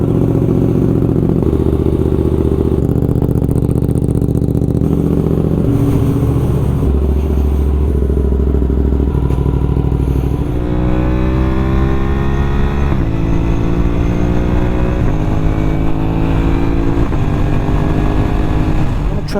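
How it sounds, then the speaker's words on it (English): A 2024 Suzuki GSX-8S motorcycle fitted with an M4 exhaust, heard loud and close as the engine idles and then revs up and down through several long rising and falling sweeps, with no talking. "get some of the sound of this M4 exhaust on that camera, so like that you guys can hear what it sounds like on the 8S"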